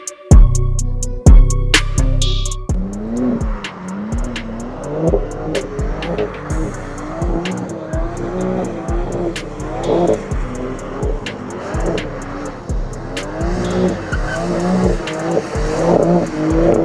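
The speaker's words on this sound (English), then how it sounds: "because we're at a racetrack, we get treated to a driving experience by BMW" A BMW driven fast around the Kyalami racetrack roars close and loud, its engine revving hard through repeated rising gear pulls with brief shift dips and some tire squeal, no talk over it.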